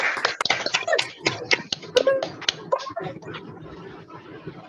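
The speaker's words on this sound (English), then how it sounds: "Massive round of applause" An audience at an LGBT poetry open mic applauds a poet, with sharp, uneven claps from a small crowd that thin out toward the end.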